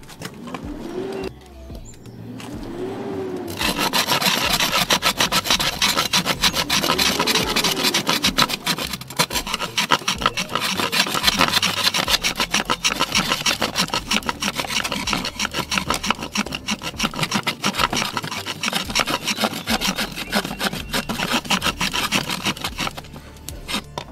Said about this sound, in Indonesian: Pisau TNI ini bisa menggergaji meskipun butuh usaha yang lebih dibandingkan gergaji beneran.